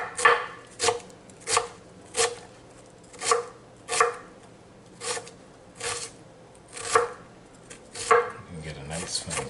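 A knife chops an onion finely on a board in a slow, regular rhythm of about a dozen crisp, close strokes, each a short sharp knock with a gap between, alone without talk.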